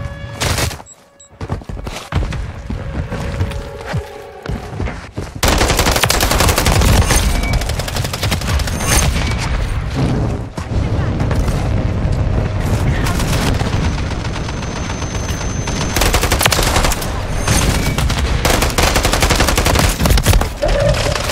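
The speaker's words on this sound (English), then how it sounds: "Putting so many shots in him with this freaking gas gun" Heavy gunfire in Modern Warfare 3 War Mode with a gas gun, sustained rapid automatic bursts and booming blasts going almost nonstop, loud and close after a quieter opening few seconds.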